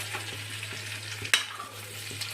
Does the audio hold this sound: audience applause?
no